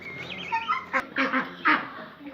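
Broiler ducks on a farm quacking in a rapid series of nasal calls, close by and fairly loud, with one sharp click partway through.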